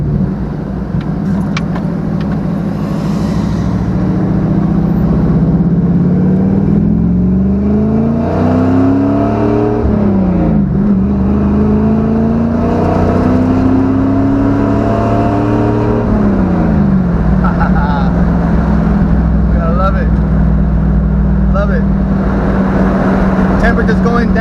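An LS-swapped GMC Sonoma pickup drives around town, its V8 droning loud and close from inside the cab, the pitch rising and falling through a couple of shifts before settling into a steady cruise.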